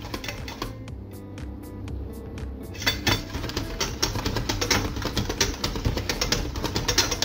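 A thickening cream filling for a meringue tart is stirred in a pan, giving rapid, regular clicks and scrapes of a utensil against metal that grow louder and busier after the first few seconds.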